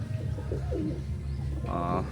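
Pure imported-bloodline teddy pigeons coo close by in a few soft, throaty rolls over a low steady hum, ending in a brief brighter call.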